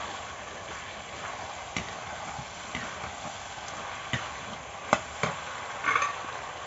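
A spoon stirs chicken kosha in a pan, producing faint scraping and occasional sharp clinks over a soft background sizzle of the frying meat, with irregular louder taps.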